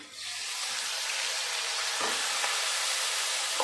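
Banana flower added to shrimp and potatoes frying in a pan gives a steady hissing sizzle, close and moderately loud, with a few faint clicks of stirring and no talk.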